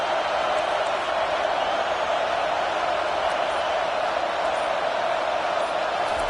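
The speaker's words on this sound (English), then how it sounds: "Listen to this crowd just shaking the girders of this place" Stadium crowd noise from the Madden 24 football video game, a steady loud roar of cheering fans filling the whole stretch without breaks.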